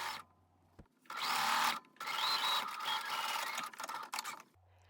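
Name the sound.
sewing machine stitching fabric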